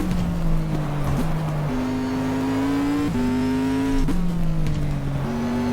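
GTR2 race car engine revving close to the red line with a slight misfire, climbing and dropping in pitch through several gear changes, loud and close throughout.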